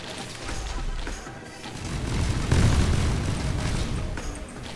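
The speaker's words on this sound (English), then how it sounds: "We're getting some missiles going on." Missiles exploding in the Risk of Rain video game, with a string of crashing booms that swell to a heavy burst midway and rumble on afterward.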